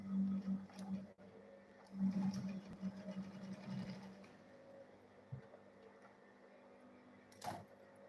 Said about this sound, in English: so I'll still resew it again.